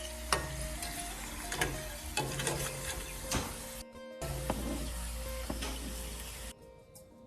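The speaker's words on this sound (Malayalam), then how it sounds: "ഇപ്പോൾ നമ്മുടെ വെണ്ടയ്ക്ക നന്നായിട്ട് ഫ്രൈ ആയി വന്നിട്ടുണ്ട്" Okra (ladies finger) fries in oil in a pan with a steady close sizzle, broken by scraping stirs and a brief break in the sound partway through.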